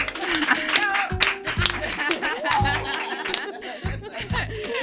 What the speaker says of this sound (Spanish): para ellas pido un fuerte aplauso